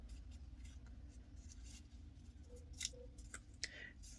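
Scissors cut paper grass pieces off a craft sheet, a few soft, quiet snips and crisp rustles over a faint background hum.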